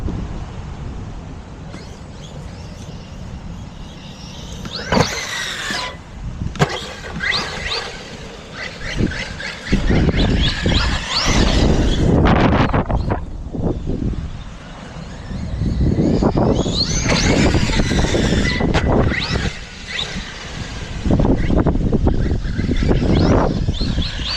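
A RedCat Valkyrie 4S RC car driving through tall wet grass, heard as a continuous rough, swishing roar that builds and surges in long loud stretches with brief drops, close to the microphone and with no voices.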